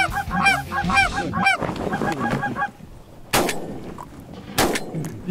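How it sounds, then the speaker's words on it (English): Geese honking loudly close by during a waterfowl hunt, then two sharp shotgun blasts about a second apart, each leaving a ringing tail, with goose calls continuing underneath. "Did I have to shoot twice?"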